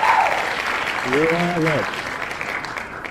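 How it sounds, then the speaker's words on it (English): Applause from an audience at a school program event, dense clapping throughout, with a brief spoken voice and a sung or drawn-out vocal phrase rising over it partway. "Applause"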